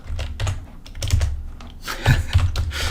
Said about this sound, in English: if I could type our polynomial